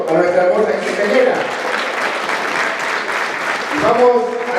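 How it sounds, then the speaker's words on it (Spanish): Guests at a quinceañera celebration in Coacoyula, Guerrero break into strong, sustained applause filling the room, with an announcer's amplified voice speaking over the clapping. "Vamos a dar un fuerte aplauso a nuestra hermosa quinceañera."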